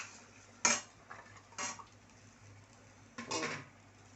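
Spoon stirring large chopped onion with small onions, garlic and curry leaves frying in a pan for stuffed brinjal, three scraping metallic clinks against the pan over a faint steady background, no talk.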